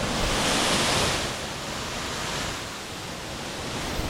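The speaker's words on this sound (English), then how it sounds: "Alright, I made it to the waterfall." Rushing water pours at a waterfall reached on a 15 km hike in Mexico, a loud, broadband roar that swells at first and then settles into a steady wash, with no voices.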